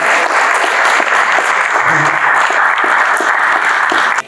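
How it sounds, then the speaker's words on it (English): A crowd applauding women's traditional dancers at a Native American Heritage Month celebration, with dense, loud, steady clapping that continues throughout before breaking off at the very end. "Give them a round of applause."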